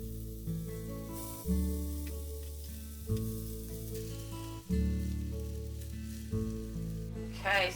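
Homemade hash browns frying crisp in a pan, a steady close sizzle running throughout over a soft tonal hum, with a few brief shifts as pieces are moved and flipped.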